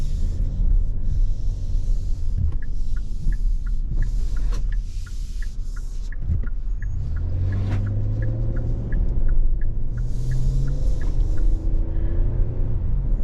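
A 2023 Kia Telluride XLine SX Prestige AWD driving on the road: steady low engine and road rumble heard from inside the cabin, with a faint repeating ticking like a turn signal partway through.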